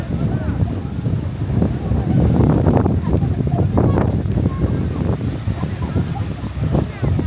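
At night on Digha beach, wind rushes and buffets steadily against the microphone while waves wash beneath it, with a voice talking throughout over the noise.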